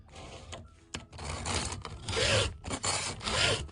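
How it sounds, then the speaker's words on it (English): A round file sharpens a chainsaw chain tooth on a saw clamped upside down in a vise, making a series of close, rhythmic rasping push strokes with brief pauses between them. "Position the file, you can see the files down on the tooth, and then we sharpen as we push away from the tooth"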